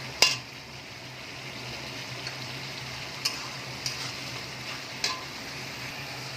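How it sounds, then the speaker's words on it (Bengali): Ginger-garlic paste frying in a pan for chicken kofta curry while it is stirred: a low, steady sizzle with a few sharp clicks of the spoon against the pan, fairly faint throughout. "আদা রসুনের পেস্ট আমি দিয়ে দিলাম। ভালো করে একটুখানি কাঁচা গন্ধটা যতক্ষণ না যাবে একটু নাড়াচাড়া করবো।"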